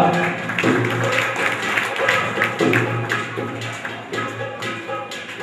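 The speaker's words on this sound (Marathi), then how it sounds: "भरभरून टाळ्या वाजवा" An audience at a state-level award ceremony in Mumbai claps steadily for several seconds in a reverberant hall, with a faint voice under the applause.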